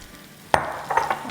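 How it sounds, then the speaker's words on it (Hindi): Peas drop into potatoes frying in a pan for aloo matar sabzi, starting with a sudden sharp hit and splash followed by a rising sizzle and a few stirring scrapes, close by and with no voices. "तो यहाँ अब हम मटर डालेंगे जो कि है 1 पाउंड यानी आधा किलो के आसपास।"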